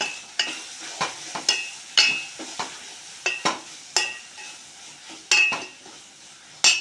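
A spatula repeatedly stirs turmeric and ginger frying in a pan at close range, each stroke giving a sharp scrape or clink over a soft sizzle, in an irregular rhythm of about a dozen hits.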